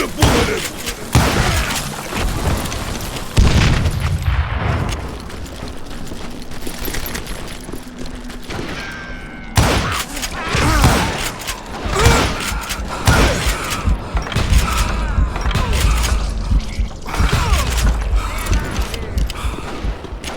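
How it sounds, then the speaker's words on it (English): Gatling gun battle in the Wild West shooter Call of Juarez Gunslinger, loud dense bursts of rapid fire, crashes and booms over nearly twenty seconds, close and chaotic with brief spoken lines in between. "Kid Curry opened up on me with a goddamn Gatling gun"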